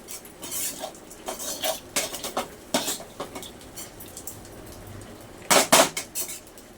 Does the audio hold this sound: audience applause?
no